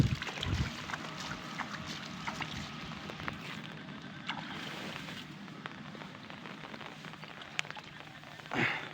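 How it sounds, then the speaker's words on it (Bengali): Steady rain falls outdoors during a rural fishing trip with bamboo traps, a continuous even patter with scattered sharp drip ticks and a few soft knocks, moderately near and unbroken throughout. "বৃষ্টিটা সারাদিনই মনে হয় পড়বে আজকে, বৃষ্টি পড়তেছে"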